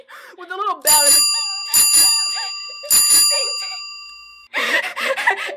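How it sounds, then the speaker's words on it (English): A small bell on a little aluminum bicycle rings three times in clear, bright dings, each tone hanging and decaying, with a person talking before and after. "you're on this little aluminum bike with a little bell"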